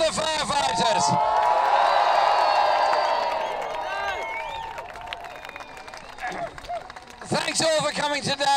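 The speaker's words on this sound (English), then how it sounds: "Give a round of applause to the firefighters." Crowd at a Unison union conference in Brighton applauds and cheers the firefighters, dense clapping with whoops for about four seconds, then fading into murmuring before voices rise again at the end.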